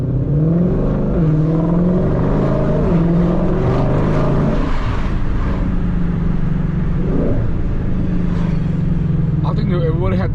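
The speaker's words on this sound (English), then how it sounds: "But this exhaust sounds so incredible." A 2020 Shelby GT500's exhaust rumbles loudly and continuously, with the engine note rising and falling through several revs before a late crackle, while a person talks over it.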